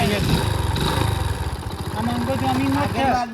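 A motorbike engine runs steadily close by, a low throbbing putter with rhythmic pulses, while voices talk over it.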